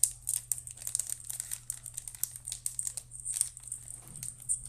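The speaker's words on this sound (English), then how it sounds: "I wish I could muffle the crinkling." Crinkling of a Magic: The Gathering booster pack wrapper, a steady stream of crackly plastic rustles close to the mic, with no talk over it.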